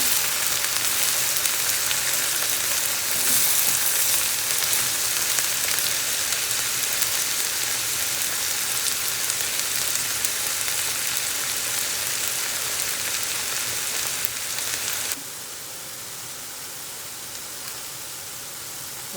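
Chopped spring onions fry in a pan with a steady, dense sizzle that runs unbroken and fairly loud, dropping a little in level near the end.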